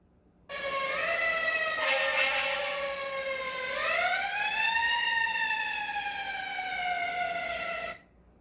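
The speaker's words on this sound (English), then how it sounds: "It was a fire truck sound." A loud wailing fire truck siren rises and falls in pitch, sustained for about seven seconds with rich harmonic tones, then stops.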